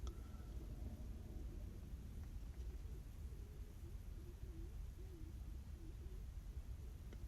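An RV rolls along a paved campground road, a steady low rumble of engine and tires heard from inside the vehicle, continuous and muffled with no talk.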